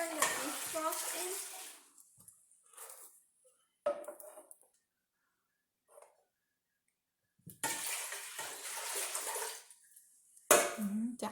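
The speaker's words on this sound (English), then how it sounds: "Now I'm pouring the beef broth in." Beef broth poured into a pot while cooking pho, giving bursts of liquid splashing and rushing that start and stop, with a longer pour near the end and quiet gaps in between.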